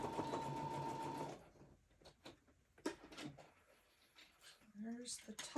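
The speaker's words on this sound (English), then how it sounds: "So I hope you can hear the sewing machine going." Sewing machine stitching, a steady buzzing run for over a second that then stops, followed by clicks, handling noises and a person talking quietly.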